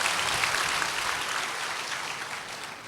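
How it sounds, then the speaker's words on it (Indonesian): A church congregation applauds during an Indonesian worship service, a dense, even wash of many hands clapping that holds steady and fades slightly toward the end. "Beri tepuk tangan yang meriah buat Tuhan."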